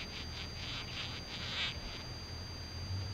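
A parasitic wasp gives a faint, steady buzz with a few pulsing surges early on, then settles into a quieter hum, heard alone without voices.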